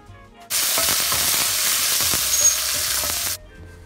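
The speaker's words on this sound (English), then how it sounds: "In the same pan, I'm adding 2 tablespoon oil, 1 teaspoon mustard seeds, 1 teaspoon cumin seeds, few red chilies and curry leaves for tempering" Hot oil flares into a loud, dense sizzle as mustard seeds, cumin seeds, red chilies and curry leaves go into the pan for tempering. The hiss cuts in abruptly, holds steady for about three seconds with faint crackles, then stops.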